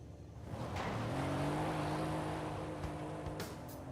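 A Mercedes engine in the Forza Horizon 5 racing game holds a steady, loud revving drone for about three seconds, with a faint whoosh near the end.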